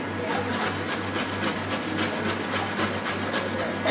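A carrot being scraped during a school cooking class: a steady run of rough, rasping strokes in close succession, close by over a low electrical hum.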